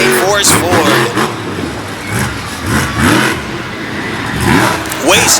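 The Natural Disaster Racing Hurricane Force Ford monster truck roars at a monster truck event in Radford, Virginia, its engine swelling in repeated surges beneath continuous announcer commentary.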